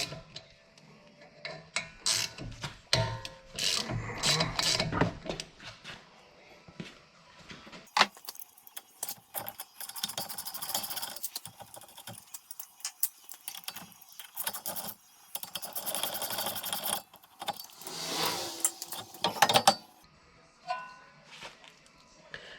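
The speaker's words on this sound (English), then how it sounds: "Still gonna need a 13mm on your ratchet for the caliper bolts." A ratchet with a 13mm socket works on the brake caliper bolts of a Jeep Wrangler JK, giving bursts of metallic clicking and clanking tool handling at close range, intermittent with pauses.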